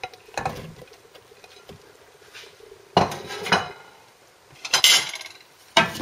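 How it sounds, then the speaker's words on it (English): Potatoes, white beans and courgettes drop into a cooking pot in several separate bursts of clatter and patter, with light scraping and knocks against the pot between them, close by and with no talking. "I'm going to add the potatoes in the white beans. Also, I'm going to add the white courgettes."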